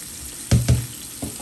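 Raw shrimp, seasoned for a chili and jerk dish, landing in an oiled pan over medium heat: two quick bursts of sizzle close together, then a softer third, over a faint steady hiss.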